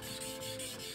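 A Ruger 10/22 bolt being polished on an 8000 grit sharpening stone gives a soft, continuous rubbing rasp in a steady back-and-forth rhythm, close and quiet, with no talk.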